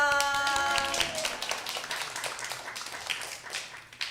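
A church congregation claps in praise of the Holy Spirit, a burst of many hands clapping close together that loosens into scattered claps as it fades, with a brief sung or spoken tone at the start.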